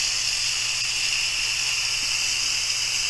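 Steady, loud hiss of steam venting from an Instant Pot pressure release valve, continuous and unbroken throughout with no voices.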